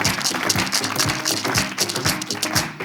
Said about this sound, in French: J'aimerais qu'on fasse un tonnerre d'applaudissements pour Miss Ruth et Miss Eve.